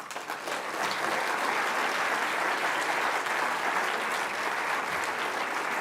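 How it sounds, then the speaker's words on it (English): Sustained applause from a conference audience, a dense, steady wash of clapping that rises quickly and holds loud throughout. "One last clap for Mordecai Loganda."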